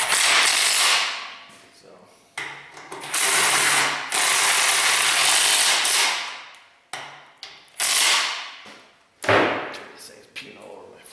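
A ratchet clicks in repeated bursts, loosening transmission bolts on a Chevy/GMC 2WD truck that are stuck with Loctite, aluminum and oxidation, each pull giving a loud grinding rasp with short pauses between.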